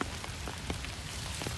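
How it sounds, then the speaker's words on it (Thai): Rain falls steadily in Pattaya, a faint, even patter with a few sharper drop ticks over a soft continuous hiss, heard alone without voices. "ฝนตกแล้วครับพัทยาฝนตกแล้วครับ"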